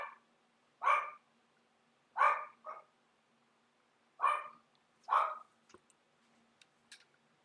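Dog barking heard in a video game, Transformers: Earth Wars, as five sharp barks in two pairs and a single, fairly close and clear with no talk over them, followed by faint clicks.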